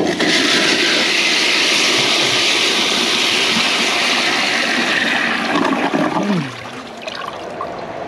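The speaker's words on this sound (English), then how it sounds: "First, let's give it a regular flush." A 2008 Kohler Cimarron Class 5 toilet on a high bucket tank, its siphon jet blocked, flushes in a loud, steady rush of water for several seconds before settling into a quieter trickle and refill.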